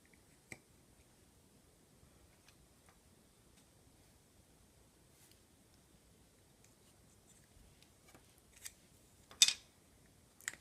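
A few faint, sparse snips as polymer clay shield shapes are cut out, mostly quiet, with a sharper cluster of cuts near the end.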